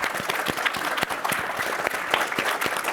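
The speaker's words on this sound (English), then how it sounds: "A big round of applause for our panel." A live audience applauds a panel at a World Food Program event on women-led climate technology, steady dense clapping filling the room throughout with no one speaking.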